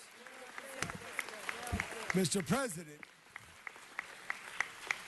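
Scattered, sparse clapping breaks out at a Living Legends of Jazz honors ceremony for the honorees, heard under someone speaking into a microphone.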